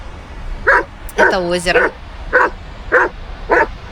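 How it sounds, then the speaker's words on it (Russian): A dog named Luna barks sharply and indignantly in repeated yaps beside a lake in a mountain lowland, a whimpering burst among them, loud and near while a person talks. "Собака разошлась там,"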